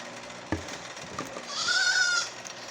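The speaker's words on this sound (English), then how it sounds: "And that is the baby goats that you hear." Baby goats give a short, high bleat at close range, preceded by a few light knocks and handling clatter.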